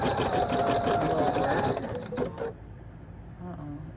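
An embroidery machine stitching a ballerina design chatters in a fast, steady mechanical rhythm close by, then stops abruptly, followed by faint beeps and quiet handling sounds.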